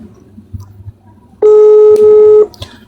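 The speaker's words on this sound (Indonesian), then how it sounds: "Aku lagi telepon temanku di daerah Celadu." A single loud telephone dialing tone sounds for about a second, steady and piercing, against quiet background noise and soft thumps before and after.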